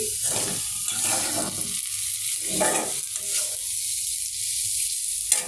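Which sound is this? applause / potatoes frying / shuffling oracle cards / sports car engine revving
potatoes frying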